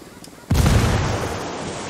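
A frag grenade detonates in the tactical shooter Ghost Recon Wildlands, a sudden loud booming blast after a brief quiet lead-in, followed by a long rumbling, crackling decay.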